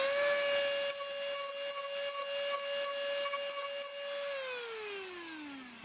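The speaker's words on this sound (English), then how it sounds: "So the next thing I did was I dremeled with my Dremel here." A Dremel rotary tool whines at a steady high pitch while roughening the surface of a castle model to look like rock, then winds down as it is switched off.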